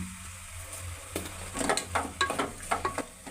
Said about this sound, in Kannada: ಈ ಮಸಾಲೆಯನ್ನು ಸ್ವಲ್ಪ ಹಸಿ ವಾಸನೆ ಹೋಗೋದವರೆಗೂ ನಾವು ಚೆನ್ನಾಗಿ ಅದನ್ನು ಎಣ್ಣೆಯಲ್ಲಿ ಹೊರ್ಕೋಬೇಕು